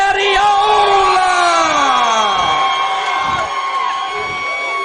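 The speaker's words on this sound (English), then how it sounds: "I can't hear myself with the crowd behind me." A loud crowd at a Bourbon St MMA fight event cheers, yells and roars continuously as a fighter is introduced, with whistles rising above the din and sustained shouting throughout.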